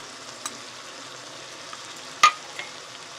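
Spice masala with Kashmiri chili, cumin and coriander powders frying for crab curry gives a soft, low sizzle, broken by a few faint spoon taps and one sharper clink partway through.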